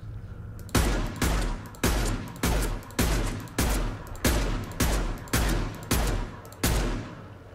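Gunfire in the video game Mass Effect 2, about ten sharp, loud shots fired one at a time at a steady pace, each with a short booming tail, with no talking.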